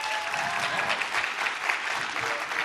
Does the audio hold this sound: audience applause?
yes